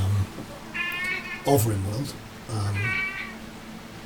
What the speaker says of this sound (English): Terribly sorry about the cat. She is very insistent.